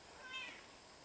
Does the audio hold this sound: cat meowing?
yes